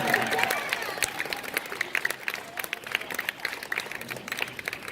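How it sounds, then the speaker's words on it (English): Students at a middle school honor society induction ceremony applaud their parents, scattered clapping from a moderate-sized audience that starts fuller and thins into individual claps, heard at a slight distance. "I'd like you to give your parents a round of applause"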